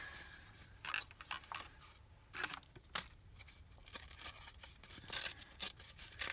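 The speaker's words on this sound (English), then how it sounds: "I love to rip the paper." Paper being ripped by hand for a mini junk journal: repeated quiet tearing and crinkling bursts, irregular and close, growing busier toward the end, no voices.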